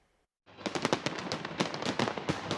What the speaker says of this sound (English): a breathtaking and well-organised firework display watched by thousands by the Thames